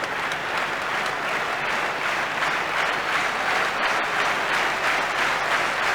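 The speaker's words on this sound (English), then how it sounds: "we're getting the loud clap here from the Adelaide supporters" Adelaide Crows supporters at a 1991 Australian rules football match clapping loudly, a continuous roar of applause from a big stadium crowd.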